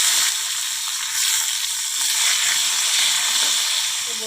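Vegetable stalks frying in hot oil with chilies, five-spice and bay leaf, a steady close bright sizzle and hiss that carries on evenly with no talking.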